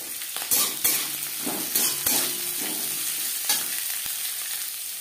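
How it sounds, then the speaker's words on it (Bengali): Green chillies and bottle gourd peel fry in a pan with a continuous crackling sizzle, broken by several sharp spatula scrapes and knocks at irregular intervals, close and moderately loud. "লঙ্কা ভেজে নেওয়ার পর দিয়ে দেবো লাউর খোসা"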